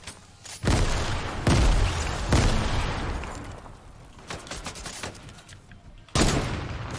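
Bursts of gunfire in a video game fight ring out in loud, dense volleys, with a heavy opening barrage, a quieter scattered stretch of shots, and a final sharp burst near the end.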